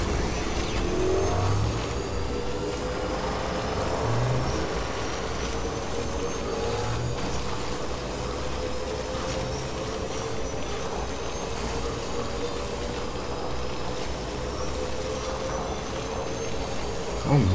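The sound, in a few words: motorbike riding in video game Death Stranding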